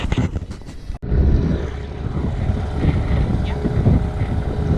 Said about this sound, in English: We're getting ready to go for a dinghy ride on the big dinghy.